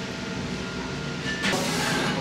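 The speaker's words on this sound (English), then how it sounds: "We're on a train." Steady rumble of a passenger train riding through Japan, a constant interior rail noise that brightens slightly partway through, with no talk.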